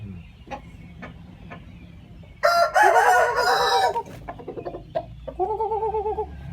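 A Burmese game rooster lets out one loud, close crow lasting about a second and a half, followed by softer clucks and scattered clicks in a quiet outdoor setting.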